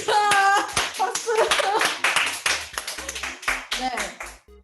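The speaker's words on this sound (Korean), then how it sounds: "박수." Young people at an online youth church service clap together, several bursts of hand claps mixed with lively talk and voices throughout.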